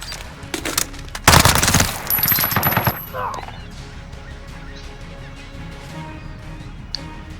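Automatic rifle fire in Call of Duty: Modern Warfare (2019), a custom free-for-all match against bots: a loud sustained burst followed by a shorter volley, then quieter game ambience with scattered faint effects.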